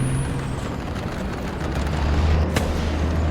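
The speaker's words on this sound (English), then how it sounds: "Somebody's dropping arty on my position" Artillery fire lands in the War Thunder video game. A single sharp, distant-sounding crack cuts through a constant rumbling engine drone, and nobody speaks.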